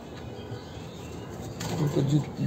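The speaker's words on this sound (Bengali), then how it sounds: "এই যে সেম ক্যাটাগরি, সেম চোখের, খুব চমৎকার একজোড়া রেসার কবুতর" A pair of young racer pigeons gives a low, brief cooing near the end, after a quieter stretch of faint rustling.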